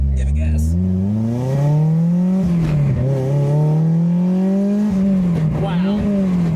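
A K-swapped Toyota MR2 engine revs under throttle, a loud sustained drone whose pitch climbs, dips and swells again as throttle is fed, heard close and continuous; voices are heard briefly.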